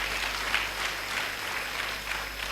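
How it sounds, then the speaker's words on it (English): An audience at a yoga festival applauds, a steady wash of clapping from many hands that carries on without a break for the whole stretch. "Give a big round of applause."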